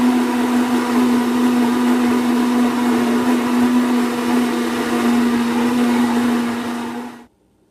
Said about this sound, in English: I'm going to blend it and add probably one more cup of water to it